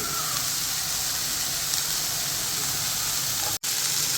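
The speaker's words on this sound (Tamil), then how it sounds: "இதோட கொஞ்சம் கருவேப்பிலை, இது கொஞ்சம் வதங்கட்டும்" Curry leaves sauté in hot oil in a pan for an instant dosa, giving a loud, continuous hiss and sizzle close by with one abrupt brief cut near the end, and no voices.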